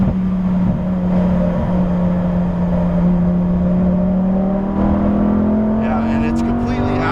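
A 2018 Lamborghini Huracan Performante engine drones loudly on a race track, pitch steadily climbing as it revs out, heard from inside the car with people talking over it.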